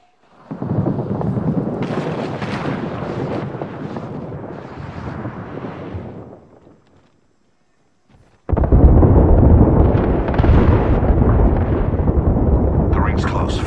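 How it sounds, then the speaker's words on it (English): Two heavy, rumbling grenade blasts in the shooter game Apex Legends, each a long roaring burst separated by a short silence, loud and close. "Incoming grenade."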